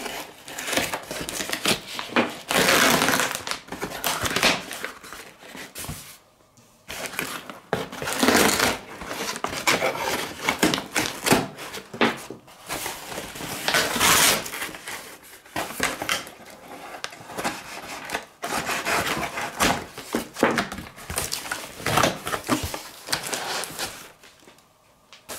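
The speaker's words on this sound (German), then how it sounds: "Ein Paket ist gerade gekommen. Gleich mal auspacken." A delivered parcel containing a vacuum sealer and rolls of bag film is unpacked, with continuous crinkling, rustling and tearing of packaging and cardboard, broken by brief pauses.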